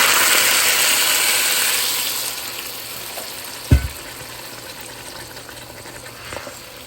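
Water hits a hot pan of fried potatoes for aloo dum potato curry, a loud hiss of sizzling that gradually dies down, broken by a single sharp metallic clank near the middle.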